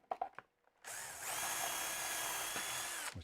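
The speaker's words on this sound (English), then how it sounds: "I've got to run that drill down the center of that." A power drill whirs steadily for about two seconds after a few short knocks and taps, boring down the center of a workpiece for a table saw infeed support, close and loud.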